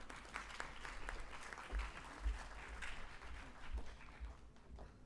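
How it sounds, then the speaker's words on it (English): A conference audience at an India-Japan education event applauds the Vice Chancellor. The clapping is soft and distant, spread evenly across the room, and low thumps from handling or movement sound beneath it. "Join me in round of applause for our Vice Chancellor"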